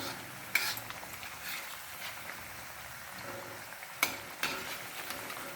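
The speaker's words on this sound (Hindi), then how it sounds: "ये देखिए इस तरह से इनको धीमी आंच पे इनको सेकना है।" Bajra and sesame mathri cooking slowly over a low flame, a soft steady sizzle broken by a few sharp clinks of a utensil against the pan.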